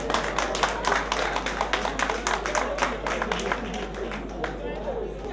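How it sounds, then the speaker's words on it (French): Audience at an award ceremony, the Diaspocam 2016 prizes in Paris, applauding in a dense, sustained burst of clapping that slowly thins out toward the end. "Applaudissez s'il vous plaît"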